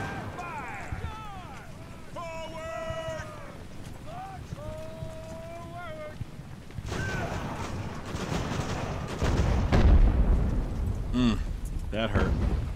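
Canister shot artillery from ships and guns in the age-of-sail naval battle game Ultimate Admiral: Age of Sail: a loud, rough roar of blasts swelling over several seconds, following a stretch of wavering tonal battle sounds.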